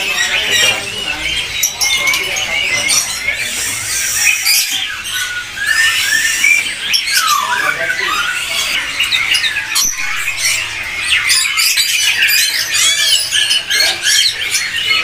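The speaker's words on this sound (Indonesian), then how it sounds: "kita geser ke burung cutter nih" A cutter bird sings in a bird shop kiosk at Pramuka market with dense, continuous high chirps and rapid twittering trills, close and loud throughout.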